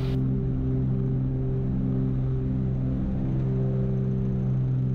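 Small airplane engine droning steadily through a takeoff roll, a loud, constant low harmonic hum with airframe noise, heard from inside the cabin with no talk over it.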